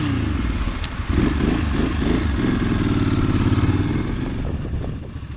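A motorcycle engine on a Norwegian summer road trip rumbles close and steady, throttle pulsing as the rider accelerates to catch up, with a clattering mid-range drone throughout.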